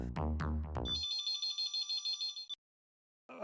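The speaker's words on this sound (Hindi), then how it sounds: "अभी जूली को फोन करता हूँ" A phone rings through speakerphone with a steady run of pulsing electronic ringtone beeps, following a brief burst of music and ending abruptly before a short silence.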